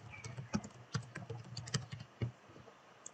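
Computer keyboard typing in short bursts of key clicks and occasional sharper keystrokes, close and fairly quiet, with no talking.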